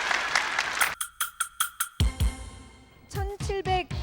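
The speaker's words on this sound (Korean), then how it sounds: "박수 한번 보내주세요." Studio audience on a Korean high school quiz show claps in a string of sharp, rhythmic bursts, loud and close, breaking off before a voice begins speaking.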